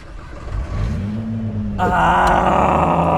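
A Nissan GT-R engine fires up and revs. A low rumble rises into a steady, loud, close-up roar that grows stronger partway through and then holds.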